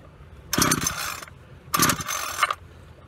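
A Homelite 26cc two-cycle curved-shaft string trimmer being pull-started: two close, loud rasping recoil-cord pulls, each about half a second long, with the engine not catching and no voices.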